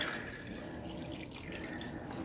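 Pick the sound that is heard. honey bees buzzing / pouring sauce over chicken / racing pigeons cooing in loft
pouring sauce over chicken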